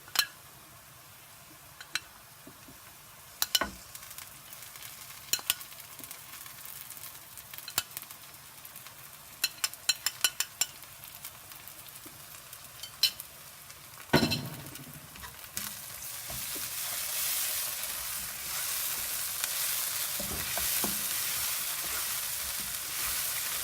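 Spice paste dropped into hot oil for Bangladeshi koi fish curry, quiet kitchen clicks and clinks at first, then a sharp burst and a rising, sustained sizzle that grows louder toward the end.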